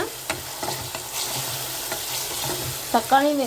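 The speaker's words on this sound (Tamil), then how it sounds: "இந்த மாதிரி சேர்த்து நல்லா கிளறி விடுங்க." Chopped tomatoes stirred into sizzling prawn gravy, a close, steady frying hiss with soft scraping and stirring noises, ending in a couple of louder clatters of the spoon against the pan.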